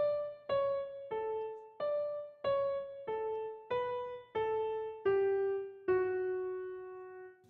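Solo piano plays a simple, slow melody of about a dozen evenly spaced single notes. Each note rings and then decays, and the line steps down toward a final held tone. No voices are heard.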